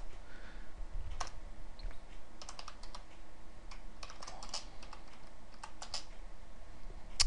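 Fingers type on a computer keyboard while coding, producing soft, irregular clicks in quick clusters with short pauses, faint and close over a steady room hiss, with no voices.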